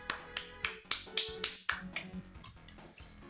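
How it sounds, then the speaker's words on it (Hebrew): About a dozen sharp, evenly spaced hand claps in a quick steady rhythm, close and crisp, gradually softening toward the end. "אני מוחא כפיים."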